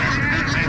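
Ducks and geese honk and quack at the Lasht-e Nesha Tuesday market near Rasht in Gilan, Iran: a dense, loud, close burst of overlapping honking calls filling the whole moment.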